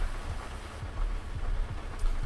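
Rain in a driving video game patters steadily with soft low thumps, a brief faint continuous wash of drops with no voices.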